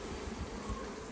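Honey bees swarm and buzz in a dense, continuous drone during a Langstroth beehive inspection, steady and close.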